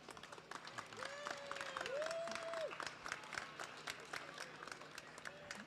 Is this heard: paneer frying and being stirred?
no